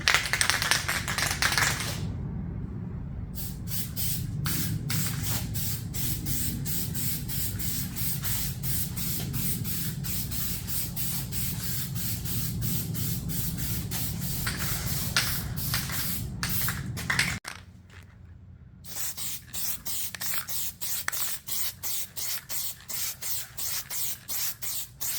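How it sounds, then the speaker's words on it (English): PlastiDip aerosol being sprayed onto the trim of a 2019 Toyota RAV4, a close hissing spray in long continuous bursts with a short pause, then quicker rhythmic short bursts toward the end. "let's go ahead and start spraying."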